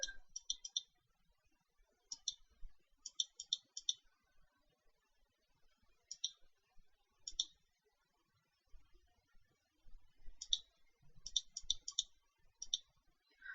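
Bursts of light clicking from a computer keyboard come in short, quick clusters separated by pauses, faint and close, with low background noise and no speech.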